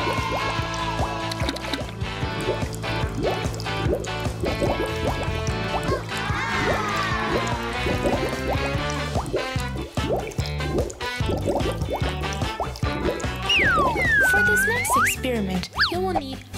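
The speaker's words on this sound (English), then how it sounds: "all you need to do is to drop the tablets inside" Tablets fizz in a jar of oil and coloured water, giving a busy, close stream of bubbling, popping and dripping with soft liquid gurgles, while music or voices sit underneath.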